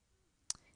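A single crisp mouse click on an on-screen button in email software, a sharp isolated tick in a quiet room with no talking.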